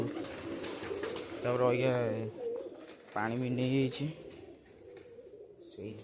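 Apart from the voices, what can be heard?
pigeons cooing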